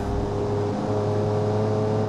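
An 84 horsepower hatchback car drives along with a steady, droning engine hum and constant road noise, moderately loud and unbroken throughout.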